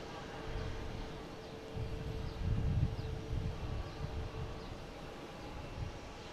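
An American Airlines Airbus A321 jet arriving from Dallas Fort Worth comes in to land at Boston Logan, a steady broadband engine roar that swells to a peak near the middle and then settles back to a continuous rumble.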